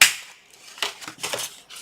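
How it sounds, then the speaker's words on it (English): Corner rounder punch clipping the corners of a fold-flat paper box's closure flaps, giving a few sharp, close clicks and crunches spaced out over a couple of seconds with no talk. "round your corners on your closure flaps"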